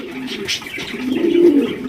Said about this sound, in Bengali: একজোড়া মাক্সি রেসার কবুতর নিতে পারবেন